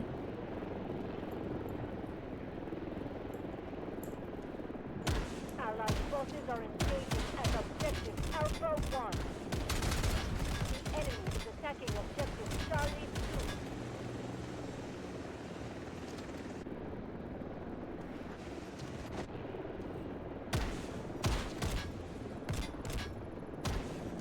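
A helicopter in the video game Delta Force fires rapid bursts of gunfire over a steady rotor drone, the shots rattling in dense volleys near the middle, with someone talking over the action.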